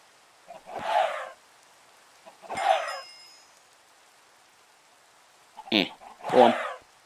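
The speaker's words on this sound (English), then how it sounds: "That's a lot of, like, chicken death right there." Minecraft chickens in All The Mods 9 get hit and killed, letting out four short clucking hurt cries spaced a few seconds apart, each crisp and near, with near silence in between.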